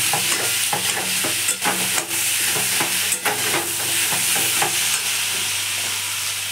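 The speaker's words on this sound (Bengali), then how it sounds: "কাঁকড়াগুলো দিয়ে দিলাম, মশলার মধ্যে কষিয়ে নেব।" Crabs being stir-fried in a spice masala for a red, fiery crab curry, with steady loud sizzling and repeated scraping, stirring knocks of a spoon against the pan, no voices.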